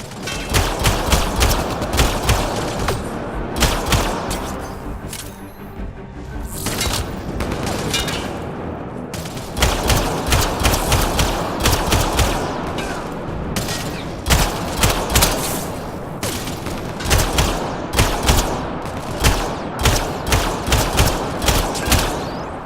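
Sci-fi gunfire during a Mass Effect Andromeda firefight: repeated loud bursts of automatic shots with thuds and booms, continuing for over twenty seconds with short lulls and no talk.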